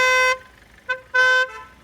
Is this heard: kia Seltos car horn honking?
yes